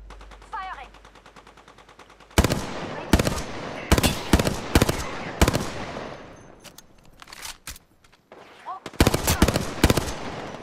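Gunfire in Apex Legends during a ranked match: sharp bursts of automatic fire, several separated volleys with brief gaps, loud and close, after a quieter opening.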